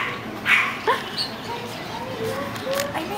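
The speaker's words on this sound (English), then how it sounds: "And when I walk away, he barks." A puppy in a pet shop gives a few short, high yips and whimpering barks at close range as a woman walks away, with her voice speaking around them.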